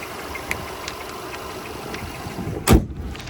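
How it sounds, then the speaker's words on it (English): A Mercedes car engine idles with a low steady hum and a few light ticks, followed by a sharp thump near the end. "So I've had the engine on this whole time, so you can hear it."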